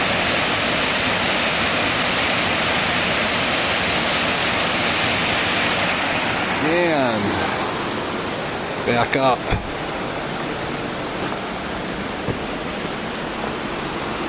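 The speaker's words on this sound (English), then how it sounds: "it is a long waterfall" Shepperd's Dell waterfall roars as a loud, continuous broadband rush from a trail viewing area, with a brief voice and a few handling knocks over the steady falling water.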